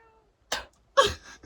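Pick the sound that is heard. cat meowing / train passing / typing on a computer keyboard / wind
cat meowing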